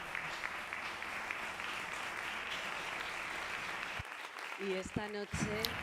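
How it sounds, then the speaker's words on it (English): Applause for a film team at a press conference, a dense steady clatter of many hands clapping for about four seconds, then cutting off abruptly, followed by brief voices and some scattered sounds. "a big round of applause for all of them"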